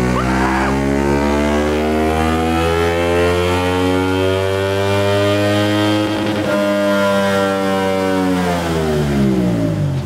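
CFMOTO 450SS motorcycle on a dyno after an ECU flash, its engine held at a loud sustained rev with strong, steady harmonic tone that dips slightly mid-run, continuous for about ten seconds.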